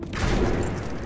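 A brief, dense burst of rapid gunfire in a video game, loud and continuous with no talk over it.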